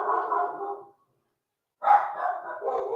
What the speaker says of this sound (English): My doggies, they love to bark.